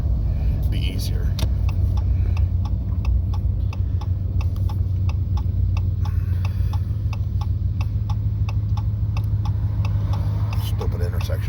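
A car driving around town, with steady low engine and road rumble throughout, a rhythmic ticking like a turn signal, and occasional small clicks and rattles inside the cabin.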